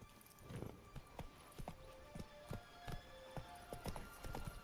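Horse hooves of Roach in The Witcher 3 clip-clopping at a steady trotting rhythm, evenly spaced thuds close by over a soft ambient game backdrop.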